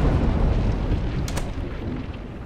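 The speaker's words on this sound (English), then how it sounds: "My car exploded." A car blows up in the video game State of Decay, a broad, rumbling roar of noise that holds steady for a couple of seconds, with a brief crackle partway through.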